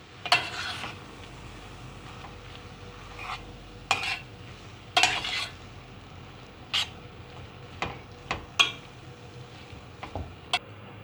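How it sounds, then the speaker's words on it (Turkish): Apples roasting and caramelizing in a pan, stirred with a utensil: scattered sharp scrapes and clicks against the pan over a faint sizzle, with no talking. "Elmalar iyice renk değişene kadar kavrulacaklar karamelize olacaklar iyice"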